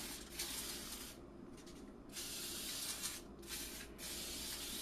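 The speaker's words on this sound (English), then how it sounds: "you want to make sure you get a good generous spray" Cooking oil sprayed from a can into a muffin tin, several bursts of soft hissing spray with short pauses between them, close and fairly quiet.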